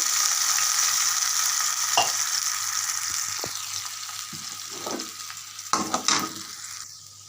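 Onion and garlic hit a hot pan for a Bangladeshi dish of dried fish, Malabar spinach stems and jackfruit seeds, sizzling steadily up close while a spatula scrapes and knocks against the pan in several louder bursts near the end.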